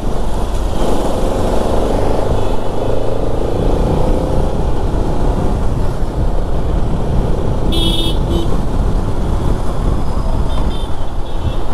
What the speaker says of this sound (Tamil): ஸோ இங்கே அவர் ஃபுல்லாக செம்ம டிராஃபிக்குங்க, நல்ல டிராஃபிக்கு.